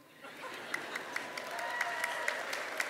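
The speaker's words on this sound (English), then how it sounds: "But it was Winston Churchill, you want to applaud for him?" Commencement audience applauding at a 2014 university spring graduation ceremony, steady distant clapping from a large crowd with a few sharper individual claps standing out.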